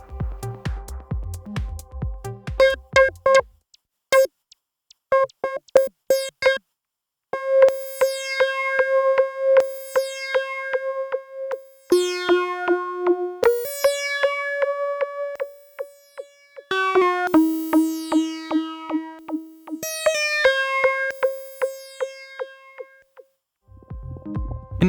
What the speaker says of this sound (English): Then I go into my Make Noise QPAS and the MFB filter. I set both filters quite differently, so I get different signals on the left and right.